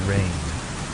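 Steady rain falls as a dense, even wash of noise through the whole second, with a low rumble swelling briefly near the start.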